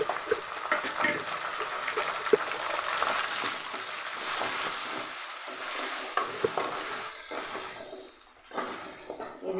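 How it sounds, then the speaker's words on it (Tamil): Ginger, garlic and masala sauté in hot oil in a pan for a cauliflower gravy, with a steady crackling sizzle and occasional soft ladle scrapes, with no talking. "எண்ணெய் தனியாக த இந்த மசால் தனியாக பிரிஞ்சு வர அளவுக்கு வதக்கிக்குவோம் அடி பிடிக்காமல் வதக்கணும்"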